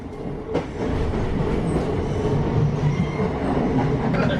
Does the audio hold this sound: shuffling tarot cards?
no